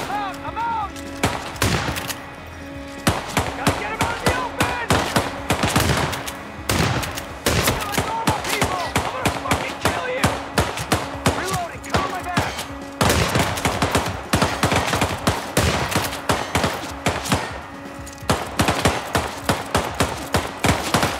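Relentless, loud gunfire from the video game Hitman, with rapid automatic bursts and single shots piling up continuously for about twenty seconds, punctuated by sharp impacts and clanks, no talking.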